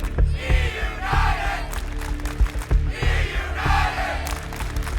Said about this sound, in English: You hear the crowd getting behind Clayster and the boys.